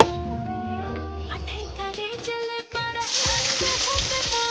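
Chicken sizzles and splatters in a hot pan on a home stove, the frying hiss growing louder and brighter partway through, with clattering and a few indistinct voices mixed in.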